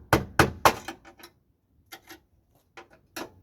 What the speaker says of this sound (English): I'm just going to work my way right down, chipping off all the welds